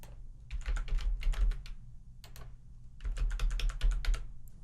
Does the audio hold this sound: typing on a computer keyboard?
yes